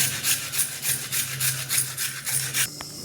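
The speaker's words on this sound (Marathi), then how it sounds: "आता छान बारीक गाजर किसून घ्यायचं।" A carrot grated finely by hand, with about nine regular back-and-forth rasping strokes at a steady rhythm, close and alone, ending in a brief clink.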